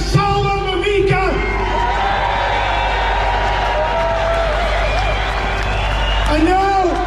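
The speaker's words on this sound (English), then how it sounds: "Let's have a massive cheer for Salman Mamika." A crowd at a free-speech gathering cheers and whoops for Salman Mamika, a broad roar of voices swelling between stretches of amplified speech.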